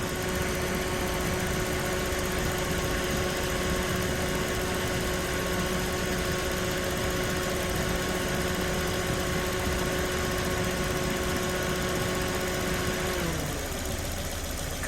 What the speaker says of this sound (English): Fan is cutting on.